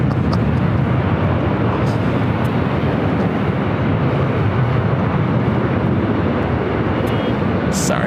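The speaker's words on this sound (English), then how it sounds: "Also, that Delta 757 heading to Boston." A Delta Boeing 757 airliner at Los Angeles LAX roars steadily as a loud, broad engine rumble that holds at full strength the whole way through.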